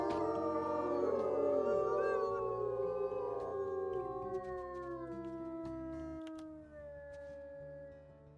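Wolves howling in the video game WolfQuest, several long overlapping howls rising and falling together over a low game music bed, loud and sustained before fading near the end.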